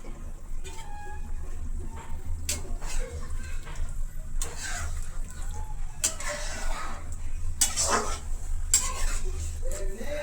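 Eggs stirred in a simmering pot of potato curry, with intermittent clinks and scrapes of a utensil against the pan over a low bubbling background, some brief faint sounds between strokes.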